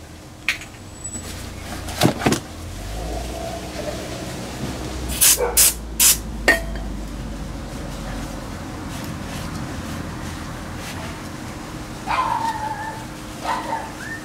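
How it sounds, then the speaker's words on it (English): Brake cleaner sprayed onto a Prevost bus wheel hub during hub packing, heard as a few short, loud hissing bursts around the middle, with a quieter metallic hiss later against a steady background rumble. "Just got a little brake cleaner on there."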